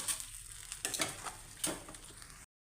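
Cooked rice for mango chitranna being stirred and mixed in a pan on a stove, with soft scraping and light sizzling strokes that rise in a few brief bursts, close and fairly quiet, with no talking.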